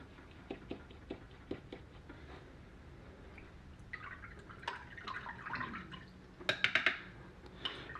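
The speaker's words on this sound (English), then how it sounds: "I hear the paintbrush splashing around in the water" A paintbrush swishes and taps in a jar of rinse water while watercolor painting, making soft drips and light clinks, faint and intermittent, with a brief clustered splash near the end.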